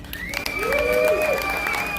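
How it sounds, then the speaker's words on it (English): Applause from a trucker convoy rally crowd fills the whole clip, steady and fairly loud, with a few cheering voices and whistles rising above the clapping. "Can we give them a round of applause?"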